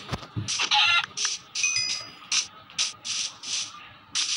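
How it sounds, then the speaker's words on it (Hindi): A rooster clucks in a village-themed video game, a series of short, bright, fairly loud calls repeating at a steady rhythm, with no talk over them. "ओहो मुर्गा भी मिल गया मेरे को,"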